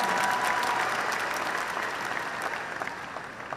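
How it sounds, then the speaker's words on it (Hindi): A crowd at a success-day gathering breaks into sustained applause, loud and dense at first, then gradually thinning and fading. "एक बार इस बात के लिए भी तालियां बनती हैं"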